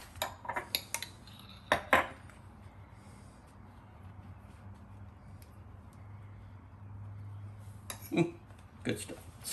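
Spoon scooping pesto and spreading it onto halved ciabatta rolls, with close clinks and scrapes in short clusters at the start and end and a quiet low hum between.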